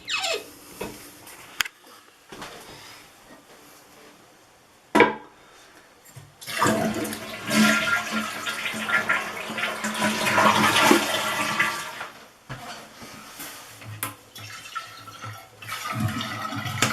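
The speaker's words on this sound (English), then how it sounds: "Now you can turn the water back on and fill up the tank." After a flush-valve gasket repair, a toilet tank refills with water: a few clicks and a splash, then a rising rushing hiss of water filling the tank, tapering to a low trickle and drips.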